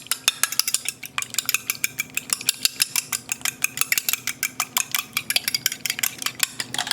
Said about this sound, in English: just whisk that up here.